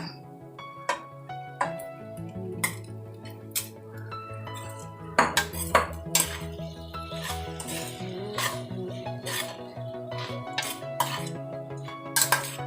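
Rice being stirred into mango masala in a pan for Tamil-style mango rice, with repeated scraping and clinking of a spoon against the pan in an uneven rhythm, sharper knocks clustering midway, and background music.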